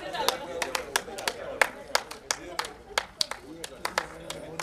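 Audience clapping at a book launch event: a loose scatter of sharp, separate hand claps, irregular and fairly close, spread over several seconds with a faint room murmur between them.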